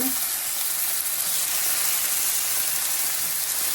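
Thin strips of steak fry in a hot pot for a stir fry, giving a steady, bright hissing sizzle that carries on without a break and without talking.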